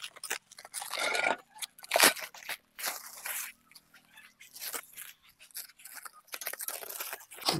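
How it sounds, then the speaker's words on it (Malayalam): Crinkly tearing and crunching of cardboard and plastic packing as a new double-action honey extractor is unboxed, in irregular close bursts with brief pauses and no talk. "അത് അൺബോക്സ് ചെയ്യാം."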